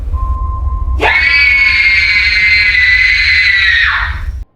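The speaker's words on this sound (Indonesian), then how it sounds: "Setelah itu Haruka pergi entah kemana lalu berteriak keras." A woman lets out a loud, sustained scream of terror lasting about three seconds, rising abruptly after a faint steady tone and cutting off sharply, in the horror film Paranormal Activity: Tokyo Night.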